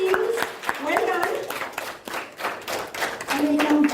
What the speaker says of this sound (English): A big round of applause for both the teams.